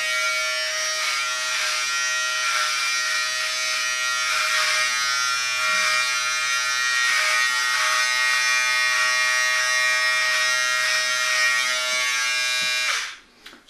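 A vacuum hair clipper set to 3 millimeters trims hair with a loud, close, continuous buzzing whir and slight shifts in pitch as it moves, then switches off near the end.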